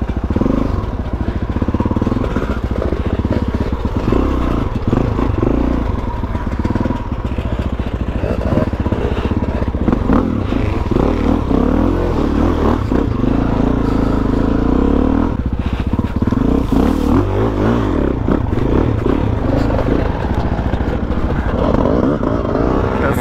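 A Suzuki DRZ400E dirt bike is ridden off-road in a group ride, its single-cylinder engine droning loudly and continuously with revs rising and falling, wind rush and occasional rattles over the top.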